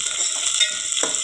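Onions and drumsticks stirred in a frying pan over a medium flame, a steady close sizzle with a few spoon scrapes and one sharper stir near the end.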